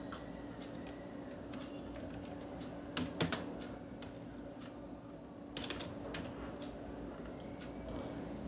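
Faint typing on a computer keyboard, with soft scattered key clicks and a couple of brief flurries of keystrokes over a quiet room background, no talking.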